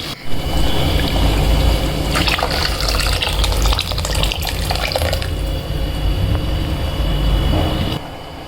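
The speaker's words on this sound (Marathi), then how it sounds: "त्यामध्ये शिजवलेले वरण घालायचे आणि थोडंसं पाणी ॲड करायचे गरम पाणी घालायचं आहे" Hot water gushes in a loud, continuous stream into a simmering dal and paneer gravy on a gas stove, splashing and filling for several seconds before stopping abruptly, with no talking.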